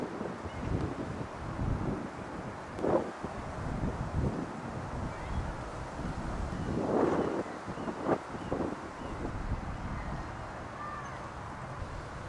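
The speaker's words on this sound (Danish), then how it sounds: "Ej, nu blæser det for meget." Strong gusts buffet a microphone on an outdoor walk near ducks, a rough, low roar that rumbles continuously and swells in a few heavier bursts over about twelve seconds.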